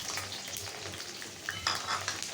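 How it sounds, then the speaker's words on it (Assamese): Finely chopped onions fry in hot oil with dried chillies and bay leaf, a steady close sizzle broken by a few scraping stirs. "পিঁয়াজখিনি অলপ দেৰি ভাজি লৈছোঁ"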